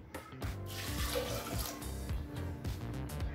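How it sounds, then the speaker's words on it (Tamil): Water is poured into a pressure cooker holding one cup of chickpeas soaked for eight hours, a steady continuous splashing stream over about three seconds with no talk. "தேவையான அளவு தண்ணி"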